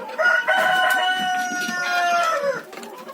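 Chickens crowing and clucking in a winter farmyard where guinea fowl live with the hens, one loud drawn-out crow ringing close over softer background clucks.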